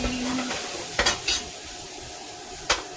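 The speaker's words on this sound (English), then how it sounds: "This hamburger is cooking beautifully." A hamburger on a barbecue grill sizzling outdoors, a steady hiss with a few sharp metallic clinks and scrapes of a utensil, close, with no talk.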